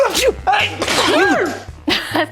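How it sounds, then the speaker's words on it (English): Two sharp sneezes in close succession, loud and near, followed by a short burst of voice. "Double sneeze."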